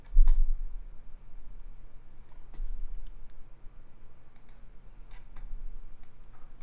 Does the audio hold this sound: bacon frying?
no